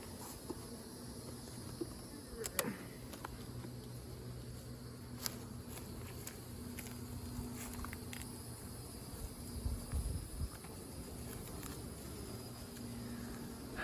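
Quiet, steady honey bee buzzing at a hive with a low drone and faint high whine, continuous and unbroken, with occasional soft clicks and taps nearby.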